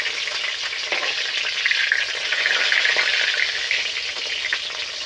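Malabar spinach leaves fry in a pan with a steady, close hissing sizzle, broken by light scraping and stirring strokes as the leaves are turned.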